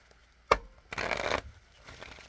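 A Bicycle deck of playing cards is shuffled by hand up close: a sharp tap, then a half-second riffling burst, followed by softer card rustling.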